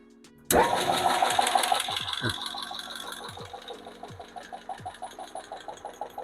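A homemade Hemi lifter tester runs under about 70 psi of pressure. After a switch clicks on, a loud mechanical clatter starts, with a steady rapid ticking rhythm and occasional heavier knocks. It settles into a quieter, even pulsing over several seconds.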